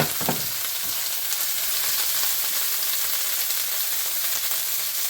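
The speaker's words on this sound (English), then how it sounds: "what I just created right here is what you call a demi glaze, okay? Look, this is simmering down." A demi-glace simmers in a pan, a steady close hiss and fine bubbling sizzle that holds evenly throughout with no voices over it.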